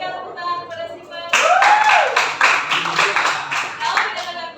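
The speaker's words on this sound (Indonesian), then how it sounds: "Berikan tepuk tangan kepada Stephen" A high school class claps for a student in a loud burst of applause that begins after a brief voice and continues to the end.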